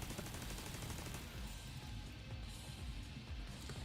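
Rapid automatic gunfire in The Division 2, a dense continuous burst of shots rattling without pause, loud and close throughout.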